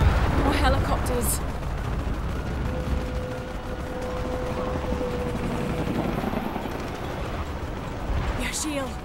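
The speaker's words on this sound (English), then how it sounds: "More helicopters." Helicopters fly in a combat scene in the video game Shadow of the Tomb Raider: a continuous rotor rumble and roar underlies loud explosive bursts at the start and end, with a thin tone drifting through the middle.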